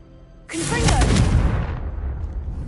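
Confringo fire spell exploding in Hogwarts Legacy: a sudden loud blast bursts in, then a crackling, roaring tail holds for about a second before slowly fading.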